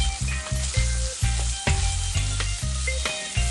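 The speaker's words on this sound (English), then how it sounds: "I'm going to give these oxtails a nice sear on both sides" Oxtails sear in a hot pan with a loud, steady sizzle, punctuated by regular scraping and clattering as the pieces are moved and turned; no voices.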